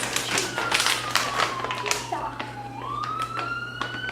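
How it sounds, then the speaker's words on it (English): A siren wails in the background, its tone gliding down and then rising, beneath nearby tapping and talking. "If you hear sirens in the background,"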